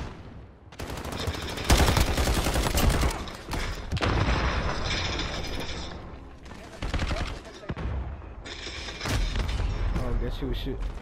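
Rapid gunfire from a Galil rifle in a video game, with repeated bursts and shots close and loud, dense layered firing that continues through most of the stretch.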